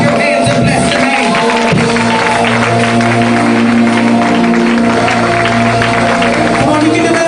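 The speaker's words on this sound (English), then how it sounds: "So now clap your hands and bless the name." Church congregation clapping hands during a service, dense continuous applause layered with singing voices and instruments.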